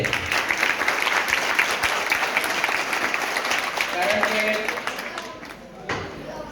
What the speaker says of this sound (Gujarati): એક વખત જોરદાર તાળીઓ થઈ